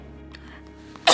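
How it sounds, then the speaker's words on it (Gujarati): A single short cough bursts out at the very end after a near-silent moment. "ઉધરસ"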